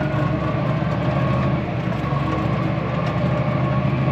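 A tractor pulling a muck spreader drives steadily at speed, its engine giving a continuous heavy low drone and mechanical rumble, close and even throughout with no voices.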